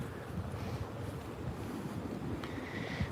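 Wind gusting through a vegetable garden of bok choy and napa cabbage, a soft continuous rushing and buffeting against the microphone with no one speaking.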